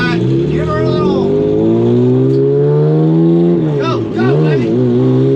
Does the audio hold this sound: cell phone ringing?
no